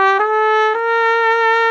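A trumpet sounds a single sustained, bright tone with rich harmonics, briefly re-articulated twice, played alone and close, using the mouthpiece fitted into the instrument.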